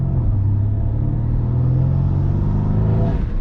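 A Mercedes C63 engine fitted with VRP intakes gives a loud, steady, deep droning rumble with an airy intake note while driving, holding fairly even throughout with a slight rise at the end.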